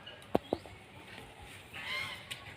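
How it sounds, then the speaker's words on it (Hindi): A Chinese fowl at a nature camp resort in Jatmai gives two short honking calls near the start, followed by fainter squawks over an outdoor background. "ये देखो भाई, ये चीनी मुर्गी।"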